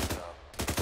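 Rapid bursts of gunfire in the military video game ArmA 3, a few quick cracks at the start and a fresh burst near the end separated by a short gap, moderately loud.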